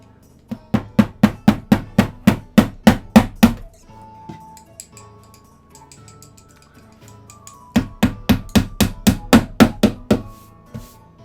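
Sharp metallic hammer blows strike in a steady rapid series while building a TV stand, pause for a few seconds of quieter clatter, then resume with another even run of hits.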